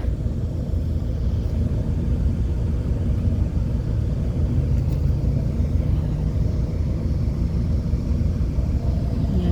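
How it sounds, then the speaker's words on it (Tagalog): Steady street traffic rumble, a continuous low drone of passing vehicles near trees and Christmas lights along a road, with no voices over it. "Medyo traffic dito, guys."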